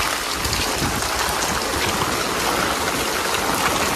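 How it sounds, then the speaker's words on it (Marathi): Rainwater rushes downhill across farmland during a heavy downpour, a loud, steady gushing and splashing flow close by, blended with falling rain and without talking. "हा बघा कसलं पाणी चाललंय खाली."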